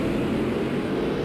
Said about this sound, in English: It did sound like a NASCAR engine